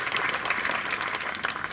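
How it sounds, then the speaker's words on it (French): Audience applause at the opening ceremony of the Dakar Court festival, a dense steady wash of many hands clapping, moderately loud and continuous throughout with no voices over it. "Vous pouvez également les applaudir"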